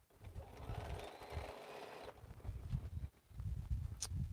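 A sewing machine stitches quilt pieces in a steady whirring run of about two seconds, then stops, followed by rustling and handling noises of fabric close by.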